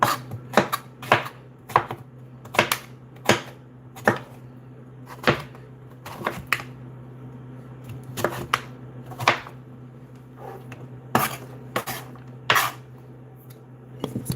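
A knife chops mango on a kitchen cutting board in quick, sharp, close knocks. The rhythm is irregular, with clusters of cuts and short pauses, and nobody speaks.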